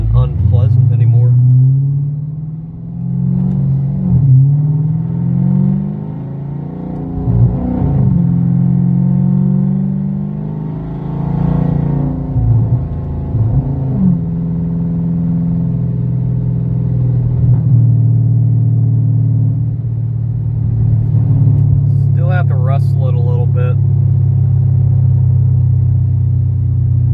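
A car driving on the road after a wheel alignment, with a steady close engine rumble and road noise throughout and someone talking over it.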